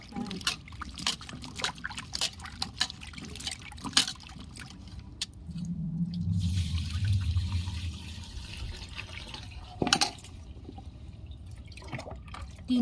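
Sandy small potatoes are washed by hand in water, with intermittent splashes, trickles and drips close by and a short swirl of sloshing water in the middle.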